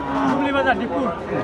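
A cow moos in a long, drawn-out call at a busy Qurbani cattle market beside the Padma River, the lowing close and loud over a murmur of crowd noise.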